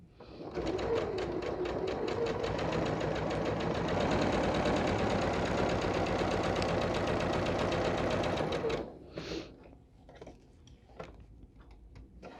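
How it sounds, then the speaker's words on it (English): A sewing machine stitches a quilt block seam, running as a loud, steady, rapid mechanical whir for about nine seconds before stopping, followed by faint clicks and handling noises. "we're going to take it to the machine and sew a 1/4 inch on either side of that line"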